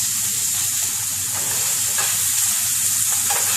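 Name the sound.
onion frying and being stirred in a pan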